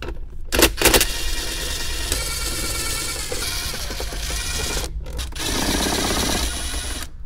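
A ratchet wrench backs out 10 mm bolts holding the factory radio in a Toyota Highlander dash, with steady clicking and metallic mechanical rattling up close, briefly pausing twice.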